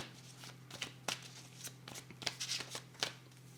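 Tarot cards, including the ten of swords, are handled and laid down in a series of close, soft slaps and sliding rustles at an irregular pace over a faint steady hum, with no talking.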